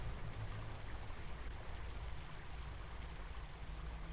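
Steady running water in the Kholat video game, a continuous even wash of flowing noise like a stream, moderately quiet and unbroken with no voices.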